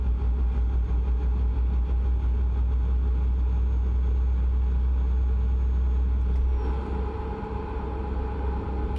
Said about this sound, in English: God, this truck is really noisy.